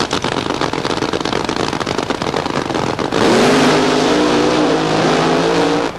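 A 1976 Mustang-bodied funny car roars at full throttle down a drag strip, a dense, loud engine blast that shifts into a steadier, rising howl midway as the run continues.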